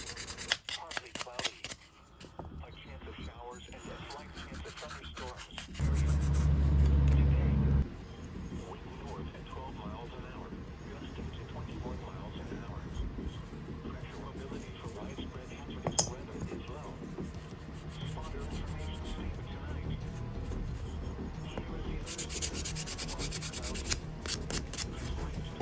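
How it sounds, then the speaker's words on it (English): 400 grit sandpaper rubbing steadily over greasy suspension parts such as a torsion bar, a continuous close scratchy sanding that runs throughout, while someone talks. "I always like to start out with 400 grit sandpaper"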